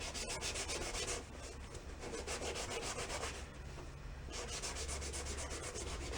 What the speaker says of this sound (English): Go try a little bit of Scotch-Brite.